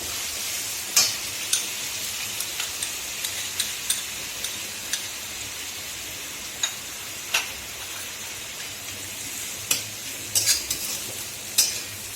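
Spice paste sizzling and being stirred in a pan, with a steady fry hiss and sharp intermittent scrapes and clinks of a spoon against the pan.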